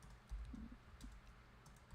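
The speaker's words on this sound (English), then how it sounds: "My typing." Faint, quiet typing on a computer keyboard at a desk, with a few soft scattered key taps over about two seconds and no talking.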